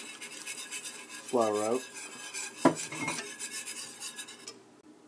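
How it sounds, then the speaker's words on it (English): A whisk scrapes and swishes around a bowl of coconut milk and flour, breaking up clumps in a few close, uneven strokes, with brief speech. "With a whisk, just keep whisking it around to get all the clumps of"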